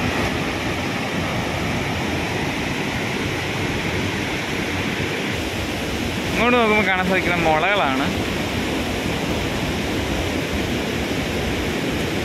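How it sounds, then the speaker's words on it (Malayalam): Athirappilly waterfall in Thrissur roars continuously nearby, a broad, steady rush of falling water; someone speaks briefly over it partway through. "നല്ല സൗണ്ടാണ് വെള്ളച്ചാട്ടത്തിൻ്റെ"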